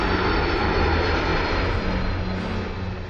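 A Boeing 757 jet airliner's engines roar loudly and continuously, a broad sustained rush with a steady low hum that eases off slightly toward the end, with no voices.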